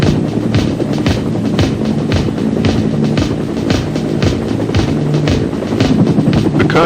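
A helicopter in military training thumps with fast, even rotor beats under a loud, steady engine roar, close and continuous throughout.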